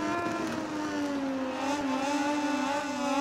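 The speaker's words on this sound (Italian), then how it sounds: "Guarda qua con la Power 2 il motore come vola." Racing motorcycle engine in the MotoGP 20 video game, a continuous high-pitched whine climbing steadily as it accelerates, heard alone without talk.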